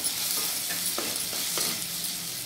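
Onions with long-cut green chillies frying in a pan give a dense, steady sizzle close by, with a few soft stirring scrapes against the pan and no talking.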